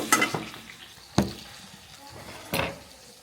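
Small fish fry over an outdoor wood fire, a soft sizzle and crackle under three sharp scraping stirs, close by.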